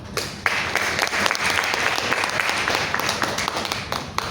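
Sustained applause from a crowd, dense clapping that stays even for a few seconds with a few sharper claps standing out.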